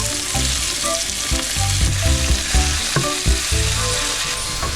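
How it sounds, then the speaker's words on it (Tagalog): Onion and garlic sautéing in a pan, a loud, close, continuous sizzle crackling with frequent sharp pops, and no one speaking. "So magigisa na tayo ng ating mga ingredients. Unahin natin ang sibuyas. And then, yung garlic."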